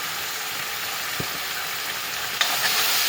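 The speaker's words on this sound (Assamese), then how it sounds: "প্ৰথমে মাংসখিনি ভাজি লৈ আছোঁ।" Meat fries in a pan with onions and spices, giving a steady, moderately loud hiss and sizzle with a couple of soft knocks and no voices.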